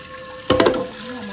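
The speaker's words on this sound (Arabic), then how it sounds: "هجيب ميه انقعها فيه، هجيب حله" A brief gush of tap water pouring into a cooking pot, starting abruptly partway through and splashing for about a third of a second before settling to a low background hum.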